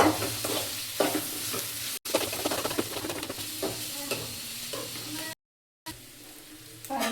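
Ridge gourd with four garlic cloves sautéing in a pan for chutney, a steady close sizzle with scraping stirs, broken by two short silent gaps.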